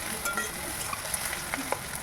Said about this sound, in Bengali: একটু লবণ অ্যাড করে মাছটাকে স্লাইস করে ভেজে নেব